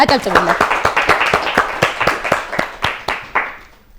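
A studio audience at a children's quiz competition claps steadily for a few seconds, the sharp claps fading out toward the end, with a brief voice at the start.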